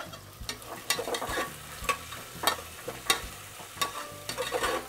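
Sliced potatoes and peas are stirred in a pan, a spoon scraping and knocking in uneven strokes over a soft, steady sizzle, close by.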